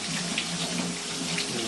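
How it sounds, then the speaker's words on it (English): A tap runs steadily while hands are rinsed under it at a sink, producing a close, even splash and hiss with slight fluctuations. "Now you can go ahead and rinse. Make sure all the soap is rinsed off."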